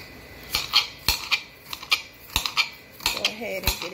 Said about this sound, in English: we're going to go ahead and chop up our onions and peppers